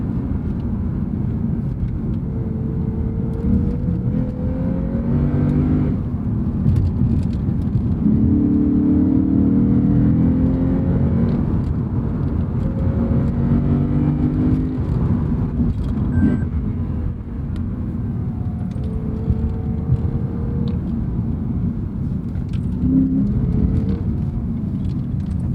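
A 2015 Lexus RC F sports car in Sport Plus mode with traction off drives under load, a steady loud engine drone with rising and falling revs and gear changes heard from inside the cabin.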